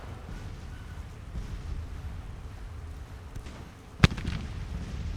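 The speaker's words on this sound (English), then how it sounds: "The artillery can finish breaking these guys." Artillery in a Civil War strategy game, a low rumbling battle bed with one sharp, loud cannon blast near the end followed by a brief rolling echo.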